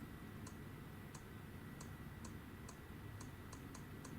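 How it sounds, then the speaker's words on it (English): Soft, quick tick sounds from an Android phone keyboard repeat at an irregular typing pace over a steady low background hum, with no voices. "check out the sound when I start typing"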